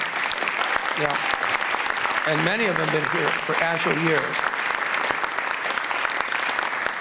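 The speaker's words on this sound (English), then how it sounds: "please give them a round of applause" Audience applause for an alumni group at a Macomb Community College jazz band concert, a steady dense clapping throughout while someone speaks over it.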